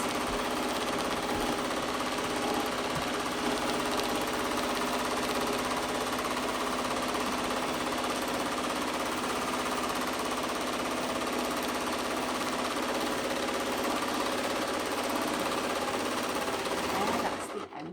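A home sewing machine stitches a squiggly meander quilting pattern, a steady, fast mechanical chatter running close and unbroken for the whole stretch before stopping abruptly at the end.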